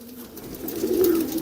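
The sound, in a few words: pigeons cooing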